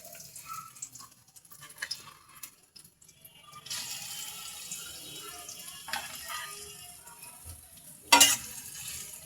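Chopped onions drop into a new kadai over medium heat and sizzle for a beef liver and potato dish; a quiet hiss builds with stirring clatter and a sharp louder sizzle near the end.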